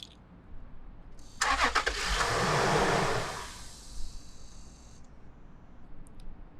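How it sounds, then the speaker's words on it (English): A fifth-generation Toyota 4Runner engine cranks briefly with a rapid whirring, catches and revs up loudly, then settles back down toward a quieter idle, heard up close. "Let's see what it looks like when we crank the engine."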